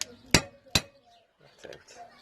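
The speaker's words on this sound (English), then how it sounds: "we'll get the screwdriver and we shall tap" A screwdriver taps a universal joint out of the driveshaft of a 1500 Triumph Spitfire at home without a press: two sharp metallic knocks close together, followed by quieter faint clinks.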